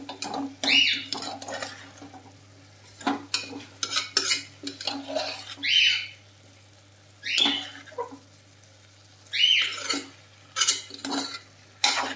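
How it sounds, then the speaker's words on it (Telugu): Spoon stirring a carrot and chana dal curry with curry leaves in a pan, repeated scraping and clinking strokes in bursts over a steady low hum. "దీంట్లో ఇప్పుడు కొంచెం కరివేపాకును కూడా వేసుకొని ఒకసారి మళ్ళీ కలుపుకుందాం."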